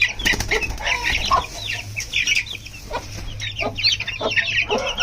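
Young roosters, grown from once weak-legged chicks, cluck and flap their wings close by, with busy overlapping calls and wingbeats continuing throughout over a low steady hum.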